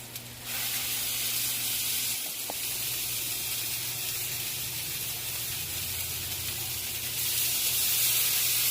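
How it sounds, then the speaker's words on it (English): A light, steady sizzle of chicken frying in hot oil hisses continuously, with a faint clink near the start and no talking. "you want to hear that little sizzle"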